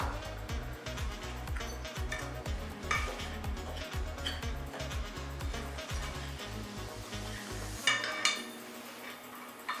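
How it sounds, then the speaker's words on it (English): Blueberries are stirred into a pie filling mix in a bowl, a run of rhythmic scraping and clinking strokes over steady background music, ending with a few louder knocks. "right now I'm gonna add my blueberries to the mix"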